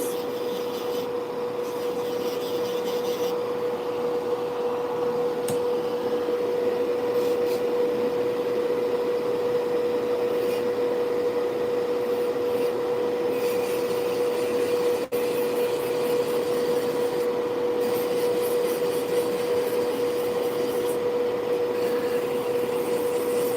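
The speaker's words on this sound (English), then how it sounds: "So I'm just going down the barrel of the nail with this drill, with this sanding band. It's a medium grit sanding band" An electric nail drill fitted with a medium grit sanding band whirs at a steady high pitch as it buffs along a fingernail, a constant close motor whine with faint scraping and no talking.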